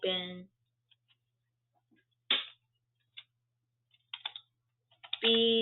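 Code being typed on a computer keyboard for a Beetlejuice game trick: sparse, scattered keystroke clicks spread across a quiet stretch, with someone talking briefly at the start and again at the end.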